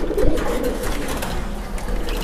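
Pigeons at a pigeon farm in Keraniganj, Dhaka coo close by in soft, repeated low throaty calls over a constant busy background hum, with no speech.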